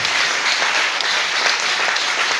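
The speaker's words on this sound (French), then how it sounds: "On acclame bien le Seigneur pour ça." Church congregation applauding during a worship service, dense sustained clapping from many hands, loud and continuous throughout without pause.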